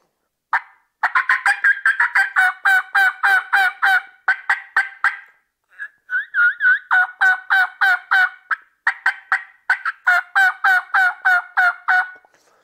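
A split triple mouth reed turkey call from a spring training reed kit, blown in rapid series of loud, raspy yelps and cackles with a brief higher kee-kee run in the middle, close and alone without talking, mimicking a wild turkey.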